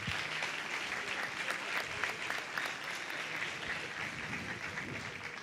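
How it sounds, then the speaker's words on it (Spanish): Audience applause fills a Spanish-language conference hall, a steady, dense clapping from a large crowd that holds without a break. "Le damos un aplauso a Facundo."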